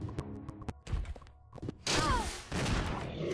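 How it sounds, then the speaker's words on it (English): Shotgun fire in Resident Evil Zero: a series of sharp, separate gunshot cracks with short gaps between them, followed by a louder, denser burst of impact and noise that carries to the end. "that one shotgun shell finished him off"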